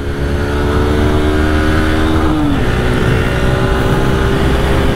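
A loud motorcycle engine, on a bike being run in, climbs in pitch, drops briefly at a gear change, then pulls again with a steady rising drone.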